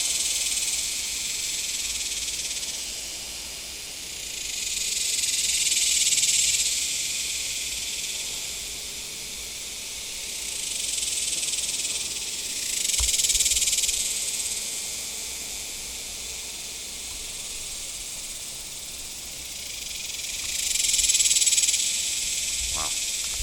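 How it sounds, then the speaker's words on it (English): Cicadas in a tree on a South Texas nature hike, a loud high-pitched buzzing that swells and fades in repeated waves several seconds apart over a quieter steady drone. "So I'm guessing these are cicadas."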